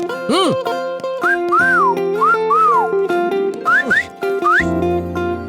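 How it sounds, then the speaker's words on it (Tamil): A man whistles at his wife in a Tamil television drama scene, producing a series of short rising and swooping whistled notes over steady background music. "நீங்க எதுக்கு என்ன பார்த்து விசில் அடிச்சீங்க?"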